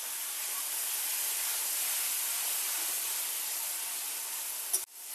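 Water poured onto spice paste with turmeric and chilli powder frying in a pan, giving a steady broad hiss that holds evenly for several seconds and then cuts off with a brief clatter near the end.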